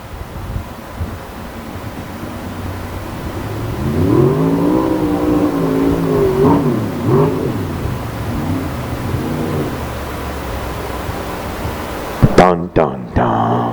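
Aaron Davis' number 11 open-wheel race car engine revs and rises in pitch at a distance over steady wind noise, then a few sharp, loud bursts come close near the end.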